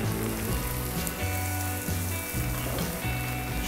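Mushrooms and asparagus sizzle and fry steadily in a pan, a close, continuous crackling hiss with no talking.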